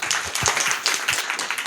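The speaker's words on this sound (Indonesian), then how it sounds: "Tepuk tangan dulu boleh." Audience at an Indonesian televised political debate clapping briefly, a short burst of scattered, moderately loud applause with no talk over it.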